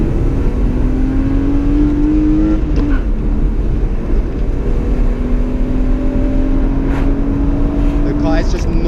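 Silver BMW E36 coupe drift car heard from inside the cabin, its engine droning loudly and steadily, with pitch climbing in long pulls, dropping, and climbing again.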